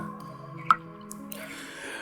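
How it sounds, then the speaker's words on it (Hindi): A single wet drip of blood lands sharply in a hushed horror-story scene, one distinct plop over a low steady background hum, with faint soft noises trailing after. "वहां से खून टपक रहा था।"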